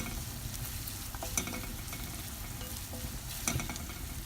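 Chopped green chili frying in a pan for egg Mughlai street food, a steady close sizzle with occasional spoon scrapes and clinks as the chili is stirred.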